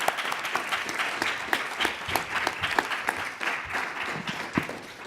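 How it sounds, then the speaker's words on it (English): Audience at a health care conference giving a panel a round of applause, a dense sustained patter of many hands clapping close by, steady for several seconds. "a big round of applause for this panel"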